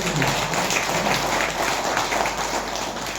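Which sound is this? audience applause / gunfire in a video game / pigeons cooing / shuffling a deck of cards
audience applause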